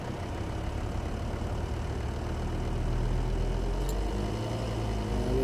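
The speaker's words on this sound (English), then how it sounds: "So what I'll do now is just increase the revs to 1000." A car engine idles and then rises slightly in revs to about 1000 rpm during a turbo boost control valve test, a steady low rumble that is close and fairly quiet, with no talking.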